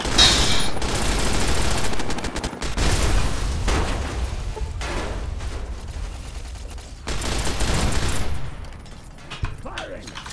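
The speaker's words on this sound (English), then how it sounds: "Machine gun." Machine gun fire in Fallout New Vegas, with sustained bursts of rapid automatic shots, loud and close, broken by short pauses, with booms mixed in and a voice speaking briefly.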